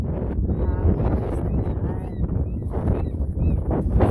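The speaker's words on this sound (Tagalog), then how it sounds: "Daming mga ibon dyan sa Cagayan City here." Many birds at Stave Lake in Mission, BC, honking and calling over one another in a dense flock, with strong wind rumble on the microphone throughout.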